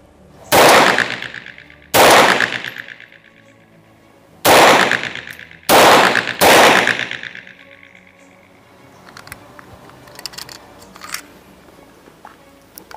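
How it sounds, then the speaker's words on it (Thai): Five sharp Walther PPK/S pistol shots fired in quick succession at a 7 metre range, loud and close with bright ringing decay, followed by quieter background chirps and ticks. "ผมจะทดลองยิงแบบต่อเนื่องให้เพื่อนๆดูนะครับในระยะ7เมตรนะฮะ"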